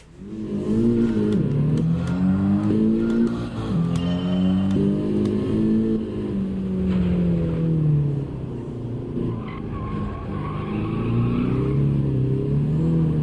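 A race car engine revs loudly and continuously through a lap of Gran Turismo 7, its pitch climbing and dropping with gear shifts and corners, with no talk over it.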